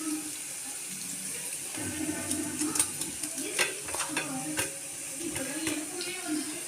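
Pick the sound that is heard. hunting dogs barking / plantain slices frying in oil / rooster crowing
plantain slices frying in oil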